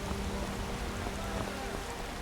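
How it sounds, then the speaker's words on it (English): Light rain in the video game Skyrim, a steady, even hiss of falling drops that fills the background without pause. "light rain."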